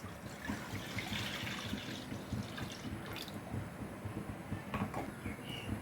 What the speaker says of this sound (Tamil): பாலை சேர்த்துக்கலாம்.